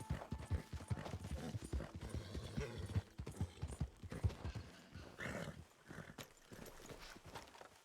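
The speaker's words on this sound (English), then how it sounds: "Now I just need to rebond with the horse." Horse hooves clip-clopping at a walk in the video game Red Dead Redemption 2, steady rhythmic hoofbeats with a brief snort or whinny, fairly quiet, with some muffled sounds mixed in.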